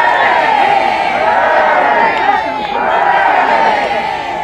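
Supportive crowd cheering at a royal walkabout with the King, a loud, sustained roar of many voices with whoops and shouts rising and falling in waves, close and filling the scene.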